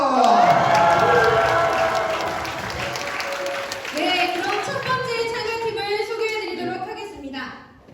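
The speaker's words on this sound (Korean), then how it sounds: "그럼 다 같이 소리 질러!" Festival crowd at a church choir praise competition roars with shouting and cheering mixed with dense clapping, loud and sustained before easing and fading out near the end.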